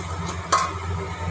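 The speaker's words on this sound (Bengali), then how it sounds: "এখন আমি আলুটা নামিয়ে এবারে ঝিঙেটা ভেজে নেব।" Ridge gourd fries in leftover oil in a wok, a soft continuous sizzle with one brief scrape of a spatula in the middle.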